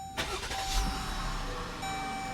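A 2016 Jeep Grand Cherokee Laredo's 3.6 liter V6 starts with a push-button ignition, a brief crank followed by a steady, moderately loud idle hum heard close by.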